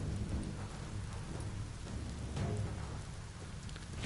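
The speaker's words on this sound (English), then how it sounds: "Raining right through the house." Rain in Biomutant pouring through a house, a steady loud hiss of falling water with a low rumble beneath, continuous throughout.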